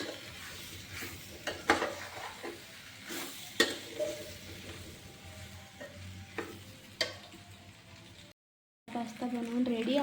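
Pasta being stirred in a pan over medium gas, with soft scraping and sizzling strokes at an uneven pace, fairly quiet, and a short silent gap near the end.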